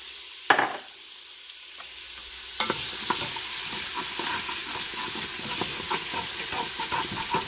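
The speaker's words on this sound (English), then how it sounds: "So now I'm putting in my onions" Onions go into hot oil in an electric pressure cooker on its sauté setting: after a couple of quiet clunks, a steady sizzle takes over with a broad hiss and crackle that holds to the end.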